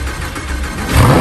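Lamborghini engine starting: a brief rushing noise swells into a loud, close roar as the engine catches and revs, heard alone.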